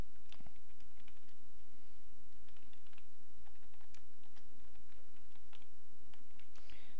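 Someone types a password on a computer keyboard, with a steady run of close, light key clicks over a low background hum.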